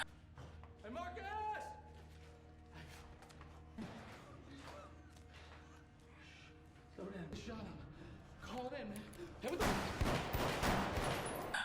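Gunfire in the crime thriller Triple 9, scattered shots and bursts mixed with dramatic music and effects, building to a loud dense blast near the end, with voices heard in places.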